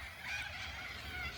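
Ducks calling in Manning Park, WA, a steady stretch of honking, quacking calls at moderate distance, faint and continuous, with no one speaking.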